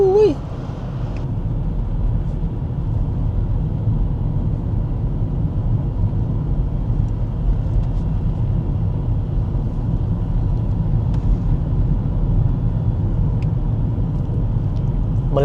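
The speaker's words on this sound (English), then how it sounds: "It's so nice driving around here." A steady low rumble of tyres and engine from inside a car driving along a New Zealand country road, continuous and even throughout, with a faint voice at the very start.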